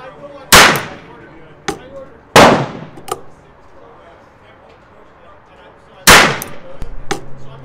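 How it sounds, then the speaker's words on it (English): Ruger Wrangler revolver fired from a rest: three sharp, loud shots spaced a couple of seconds apart, each with a quick decaying tail, plus a few smaller clicks and knocks of handling between them. "You may notice on these first shots, I'm forgetting to push the gun back down after the recoil."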